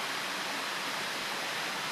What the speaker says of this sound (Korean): 어두워서 폭포수 날리는 멋진 광경은 보지 못하지만 물 떨어지는 소리는 잘 들린다.